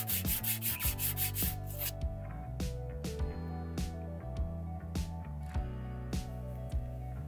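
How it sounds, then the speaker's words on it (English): A small metal bezel for a jewelry setting rubbed flat on sandpaper to remove burrs, with close, steady back-and-forth scraping strokes, fast at first and then slower and more evenly spaced. "Now that we're all flat sanded"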